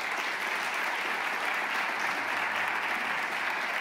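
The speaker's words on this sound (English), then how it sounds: "please welcome with a great applause to Sophie and Silvia." Audience applause welcoming two performers, Sophie and Silvia, at a Spanish and Latin American studies evening concert, a steady, dense wash of many hands clapping throughout without a break, fairly distant and even in level.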